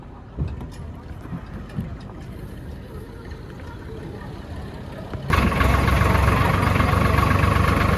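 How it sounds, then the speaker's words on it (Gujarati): A tractor's steady engine idle rumbles on, quieter with faint talk at first, then suddenly much louder and closer for the last few seconds. "ટ્રેક્ટર લઈ લીધું હોય આપણે"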